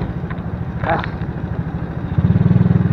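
An old Honda Wave 100 motorcycle engine putters with a rhythmic low thrum that grows louder and more pronounced toward the end, with a brief rushing noise passing early on.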